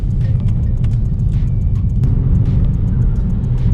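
Steady, loud road rumble and engine drone from inside a car driving through town, with faint ticking sounds over the low hum.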